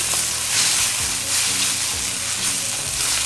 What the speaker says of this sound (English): I've sauteed the masala for about 3 minutes after adding the pureed tomatoes.